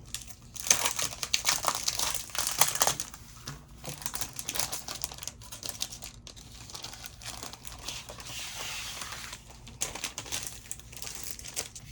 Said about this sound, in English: now I am going to put on my paper.